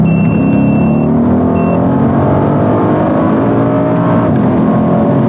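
Mercedes C63S accelerating hard on a second run, a loud continuous engine roar climbing through the revs, with brief high electronic beeps early on and wind noise throughout.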